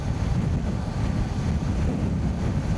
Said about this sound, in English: Oh God, that wind.